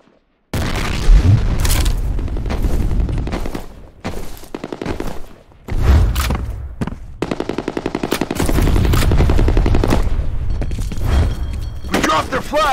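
Grenade blast and bursts of automatic gunfire in the shooter game F.E.A.R. Combat on a street map, loud and continuous with repeated rapid fire and heavy booms through most of the stretch.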